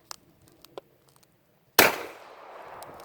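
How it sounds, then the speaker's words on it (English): A rifle fires a single 30-06 cartridge to fire-form it into 40-06, one loud sharp crack that decays into a ringing tail after a few faint clicks of handling. "you're going to take the cartridge, put it in your gun, close it, fire it"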